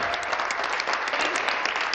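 A chamber full of members claps together during Question Period in the Ontario legislature, a dense, steady burst of applause that fills the short moment without a pause.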